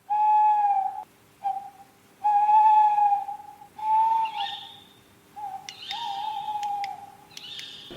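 A voice imitating tawny owl calls, both male and female: clear, sustained hooting whistles in a repeated pattern, followed by sharper, higher screechy calls, moderately loud and close, with no speech.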